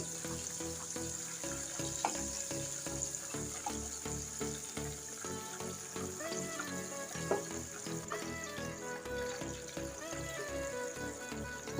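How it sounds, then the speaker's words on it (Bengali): Chicken pieces frying in hot oil, a first light fry for Korean-style fried chicken made at home, giving a continuous, fairly faint crackling sizzle with no talk. "আমি চিকেনগুলো একটু ডাবল ভাজা দেব এখন আমি হালকা করে ভেজে উঠিয়ে নিচ্ছি"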